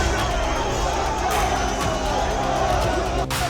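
An angry crowd protesting near a disputed mosque in Shimla, a steady, dense roar of many voices shouting and clamouring together, loud and unbroken throughout.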